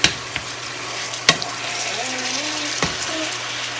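Chopped meat and seasonings stirred in a pan for slow cooker chili give a soft sizzle under a few sharp scraping knocks of the utensil against the pan.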